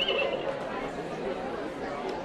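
An electronic toy horse gives an agitated, grumpy neigh right after being switched on, a continuous whinnying sound over a busy background, close and moderately loud.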